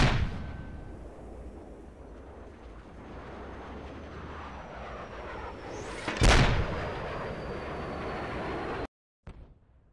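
A mortar fires in the military video game Project Reality, a single loud boom that rolls off into a rumble over a low ambient battlefield drone.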